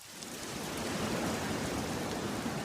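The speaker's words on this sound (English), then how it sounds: "As night falls, so too does the rain." Steady rain falls as night comes on in the White Mountains, a dense even hiss that swells in over the first second and then holds constant, with no voices.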